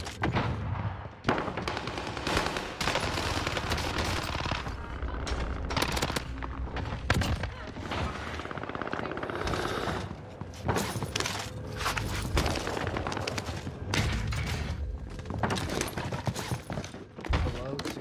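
Bursts of Vanguard gunfire in Call of Duty Warzone, loud rapid volleys broken by short pauses and sharp cracks, continuing throughout with footsteps and clatter mixed in.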